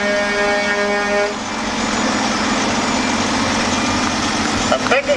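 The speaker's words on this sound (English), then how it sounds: "we have more cars coming through" Cars roll past at a small-town bicentennial parade, their engines idling and rumbling steadily nearby while a horn toots in a held, tonal blast at the start and a brief sharp noise follows near the end.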